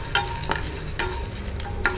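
Split chickpeas (chana dal) frying and being stirred in a pan, with a steady sizzle and a few light scraping strokes, close and moderately loud, with no one talking.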